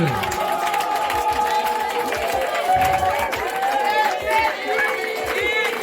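A large crowd at a recognition ceremony in Gaheville, Danané, cheering and acclaiming continuously, with layered shouts, high calls and chatter filling the space at close range.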